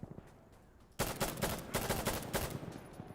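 Honey Badger rifle fire in an Insurgency Sandstorm match: after a quiet second, a rapid burst of loud, closely spaced shots rattles on for about two seconds with no speech.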